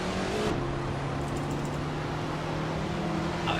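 A race car in the Assetto Corsa racing game idles with a steady, low engine drone and a faint tonal whine, holding even and constant throughout.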